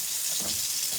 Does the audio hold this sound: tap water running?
yes